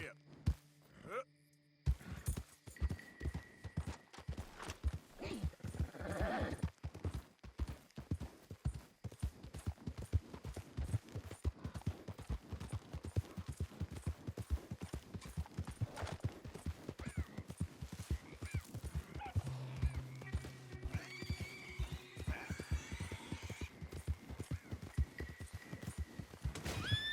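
A horse in the Red Dead Redemption 2 video game gallops with a steady, rapid clip-clop of hooves that runs throughout, and it neighs now and then while a rider urges it on.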